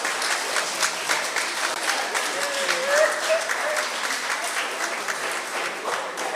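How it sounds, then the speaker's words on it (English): Audience applause fills a school opening ceremony for Special Education Week, steady clapping from a crowd that holds at an even level for several seconds, with some voices mixed in. "Give her another round of applause."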